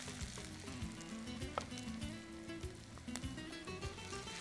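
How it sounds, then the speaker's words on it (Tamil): Onions with ginger garlic paste sautéing in a pan give a steady close sizzle and crackle, with occasional stirring clicks and scrapes. "இதை வெங்காயத்தை நல்லா வதக்கிட்டோம். இப்போது இதில் இஞ்சி பூண்டு அரைவை"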